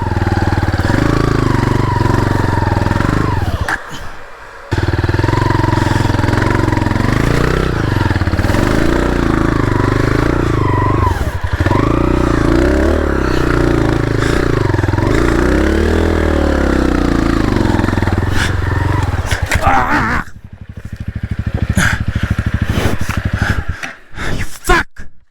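A trials motorcycle engine revving and idling high on a snowy 4500 m mountain in Kangding, Sichuan, loud and close with wavering pitch, a brief cutout near the start and fading to sputters at the end.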